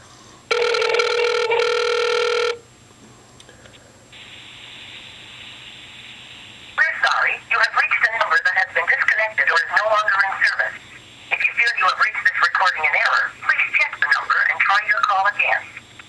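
Phone call placed to a Google Voice number: a loud, steady tone plays first, then a fainter one follows, and after a gap a repeating synthetic ringing pattern starts, cut in two bursts with a pause between them.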